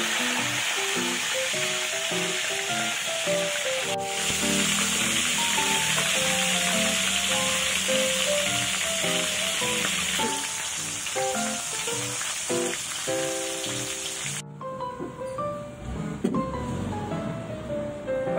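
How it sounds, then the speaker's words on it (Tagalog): Fish fries in hot oil in a pan, a loud, dense, continuous sizzle held close throughout, with light music playing underneath and a sharp drop in the hiss near the end. "magpainit tayo ng kawali, lagyan ng oil at iprito natin yung isda"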